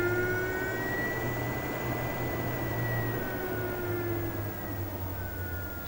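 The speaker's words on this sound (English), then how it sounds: "most trailers will come with fantastic fan like this with 3 speeds" Ceiling vent fan in a 2019 NuCamp Tab 320S teardrop camper trailer runs at a higher variable speed, giving a steady close whirring drone with a low hum and tonal whine that eases slightly near the end, no talking.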